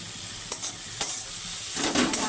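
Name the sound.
spice paste frying for onion Bhola fish curry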